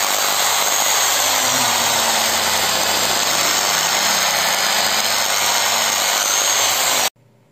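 A faulty Bosch hand angle grinder with a damaged armature runs on test, a loud, steady high-pitched motor whine held for about seven seconds before cutting off abruptly, no voices.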